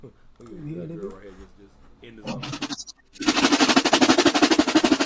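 After some brief talking, a loud, fast, steady drum pattern kicks in, with sharp repeated hits filling the second half.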